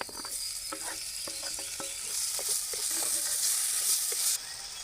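Onions and tomatoes sautéing in a pan for a cauliflower gravy, giving a steady sizzle with scattered stirring scrapes and light clicks, moderately loud and close, with no voices.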